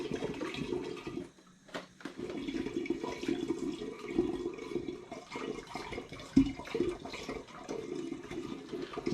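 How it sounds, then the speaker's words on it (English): Three litres of squeezed apple juice pour through a funnel into a container for making hard cider, producing a steady, close splashing gush with a few louder glugs along the way. "I'm going to squeeze into this 3 of my 4 litres of apple juice."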